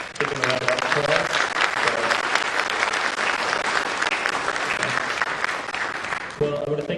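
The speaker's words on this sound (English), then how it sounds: "So if you would stand, give them a round of applause." Concert audience at a school strings Christmas concert applauds all-region orchestra students, a full, steady round of clapping from a large crowd with a few voices audible underneath.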